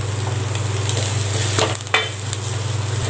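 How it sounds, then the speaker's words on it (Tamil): Grated coconut, curry leaves and coriander leaves sauté in a pan for a Madurai-style parotta salna, giving a steady close sizzle with stirring scrapes and a brief dip near the middle, no talk. "இப்போ மல்லி இலை போட்டுக்கலாம்."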